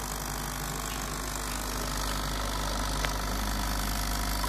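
Sunbeam EM6910 espresso machine running under pressure after a noise-suppressor repair, giving a steady broadband hum and buzz with a low drone, continuous and fairly quiet, with no talk.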